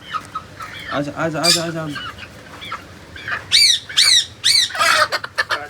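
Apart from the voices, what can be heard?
chickens squawking as they are caught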